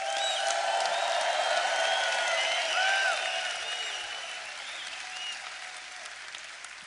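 An audience applauds steadily with scattered cheers and whistles, a dense, continuous crowd clapping at an event that slowly softens toward the end.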